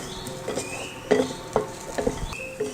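Green and dried chilies sautéing in oil in a pan, a faint sizzle under repeated metal spoon scrapes and clinks against the pan, close and intermittent.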